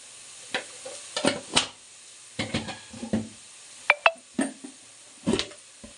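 Chicken fries in a pan with chili powder and turmeric, a low sizzle broken by repeated scraping stir strokes and spoon clinks in an irregular rhythm, close and moderately loud.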